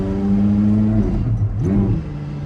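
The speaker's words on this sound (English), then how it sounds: "I'm gonna flip the revs so that I get the shift just right" A Porsche Carrera GT engine revs loudly up close, dropping briefly for a gear change into third then climbing again in a smooth, rising whine.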